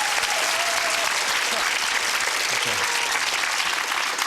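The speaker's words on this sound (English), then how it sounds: "give him a round of applause anyway" A 1997 game show studio audience applauding a contestant, a thick, steady wash of clapping throughout, with a faint voice briefly heard beneath it.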